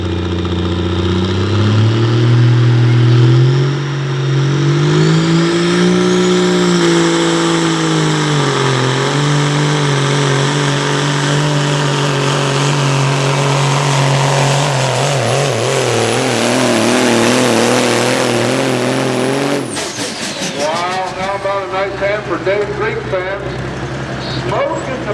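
A pulling truck with a turbocharged diesel roars loudly and continuously at a truck pull event, its engine pitch rising and falling through a long run before cutting off into crackling pops near the end, with an announcer talking over it.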